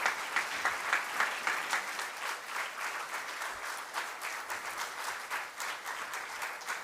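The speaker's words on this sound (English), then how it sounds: "Let's give a big round of applause to them." An audience in a hall gives a sustained round of applause for a decoration team, steady crowd clapping with no break, moderately distant and fairly soft.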